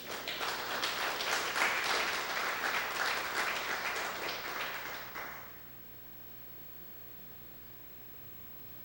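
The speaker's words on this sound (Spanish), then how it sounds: "Aplaudan al Señor." A church congregation applauding together, a thick, sustained roar of clapping that holds strong for about five seconds, then cuts off abruptly into a quiet room hum.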